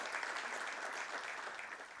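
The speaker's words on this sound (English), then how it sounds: "please give a huge round of applause for the keynote speakers" An audience in a Mumbai conference hall at a manufacturers and exporters summit applauds keynote speakers with a dense, sustained round of clapping that holds steady for two seconds with no talk.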